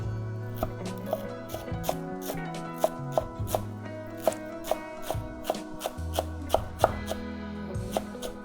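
A knife chops through squid tentacles on a cutting board, giving steady rhythmic thuds repeated over and over, close and clear, with no talking.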